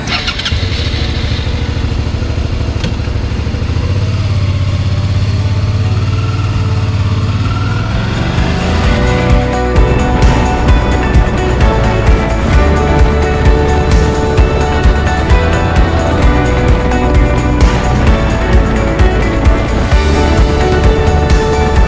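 A motorcycle on a road trip toward the Czech border pulls away after a fuel stop, its engine rising from a low idle into a loud, revving roar with gear changes that carries steadily to the end, with no talking.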